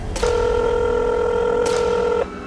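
A telephone number being dialed comes through as a single steady electronic phone tone lasting about two seconds, clear and close over faint background hiss.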